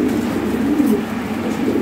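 Lahori Sirazi pigeons coo with low, throaty, rolling sounds that continue steadily and fairly close over a faint background hum.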